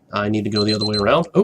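A Minecraft in-game timer alarm sounds as a steady, bright electronic beeping tone lasting about a second, loud and close, with a person talking over and right after it.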